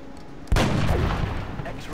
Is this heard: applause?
no